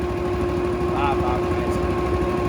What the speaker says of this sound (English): It's I think the Honda 200X whatever, right? That's a Honda motor.